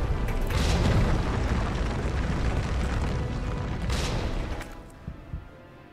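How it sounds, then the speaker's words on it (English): Grenade blasts in Resident Evil 3, a heavy rumbling explosion swelling at the start and holding loud for several seconds before fading, with a couple of smaller pops near the end. "Throwing grenades at him."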